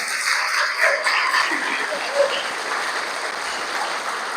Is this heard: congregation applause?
yes